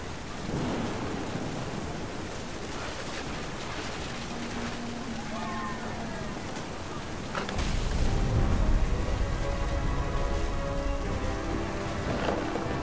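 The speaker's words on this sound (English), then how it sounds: "The thunder sounded much too close and full of angry power." Thunder rumbles through a stormy scene in What Remains of Edith Finch, with rain hissing steadily over a long broad roar that swells louder in the back half, all wordless.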